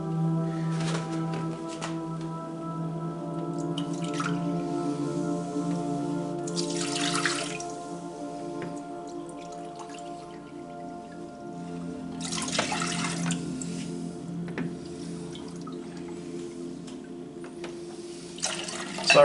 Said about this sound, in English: I'm just pouring the water in the pot